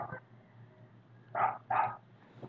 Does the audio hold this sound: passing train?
no